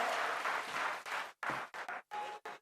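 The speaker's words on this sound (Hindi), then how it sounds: "जोरदार तालियों से अभिवादन करें" Applause from a crowd at a farmers' conference and foundation-stone ceremony in Maulasar, Didwana, comes in bursts of clapping with short pauses between them, moderately loud and without speech.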